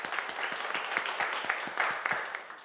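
Audience applauding at a live radio music show, a steady wash of many hands clapping with scattered sharper claps, sustained throughout at moderate loudness.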